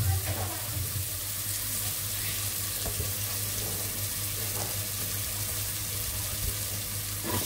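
Vegetables hit a pan of fried spice paste in a home kitchen, making a faint, even sizzle with a low hum underneath, steady throughout without voices.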